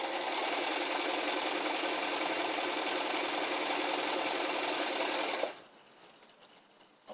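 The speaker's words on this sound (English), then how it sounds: "folding it over, joining the tiles together, folding it in half and running the sewing machine through it." An electric sewing machine stitches folded debris netting to join two lengths. Its loud, steady mechanical whirr runs unbroken for about five seconds, then cuts off and leaves a quiet room with faint handling noises.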